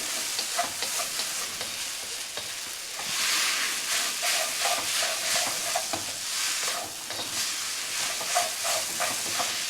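Atta Maggi noodles fry in a pan while being stirred and turned, giving a continuous loud sizzle with rhythmic scraping swells, close up and with no voices.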